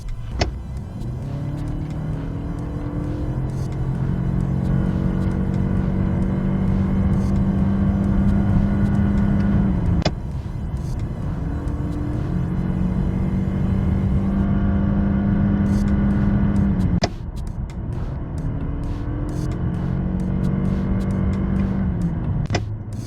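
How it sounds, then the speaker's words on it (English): A 2025 Toyota Camry's engine howls loudly as it accelerates hard on a track, its pitch climbing steadily, breaking off twice with brief shifts before rising again. "the car howls"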